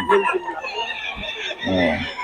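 Roosters for sale at a market in Bocaue, with a couple of short crowing and clucking calls close by, mixed with someone talking.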